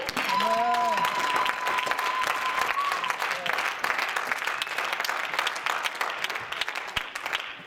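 A church congregation applauding and cheering, steady broad clapping throughout with a few raised voices and sung or shouted tones near the start, fairly distant and moderate in level.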